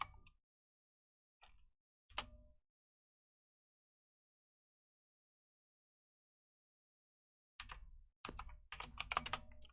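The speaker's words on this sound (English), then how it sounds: "So that's the fun thing about typing live." Live typing on a computer keyboard during web development work: sparse, close clicks at first, then a long silence, then a quick flurry of rapid keystrokes toward the end.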